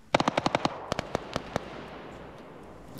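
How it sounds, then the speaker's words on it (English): .50 cal machine guns firing in a video game: a fast burst of about seven heavy rounds, then a few slower spaced shots, loud and close, trailing into a faint background hum. "You got the 50 cals firing."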